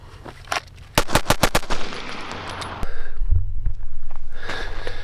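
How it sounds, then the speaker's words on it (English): Kinetic Armory ammunition is fired at a range day in a rapid string of five or six loud, close gunshots, then a couple of single shots, followed by rustling and wind noise. "This is kinetic armory ammo, and it shoots real nice."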